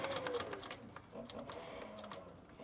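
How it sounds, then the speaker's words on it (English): A leather sewing machine runs a line of stitches on leather, a quiet, rapid mechanical clatter with a steady rhythmic needle beat and a soft motor whir. "did our back stitch, gonna run our stitch down."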